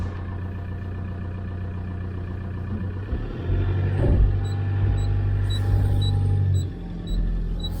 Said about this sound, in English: And I put the car in reverse.